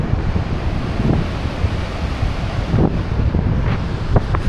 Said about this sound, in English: it's just breezy, guys. This is breezy, you know.